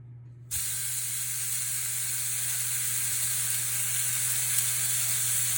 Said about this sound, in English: You hear that sizzle? That means it's really hot and perfect.